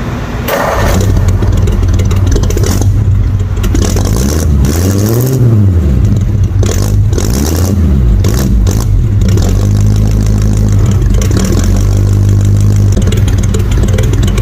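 A truck engine starts and revs loudly nearby after transmission work, its pitch rising and falling through several throttle bursts before settling into a steady running drone.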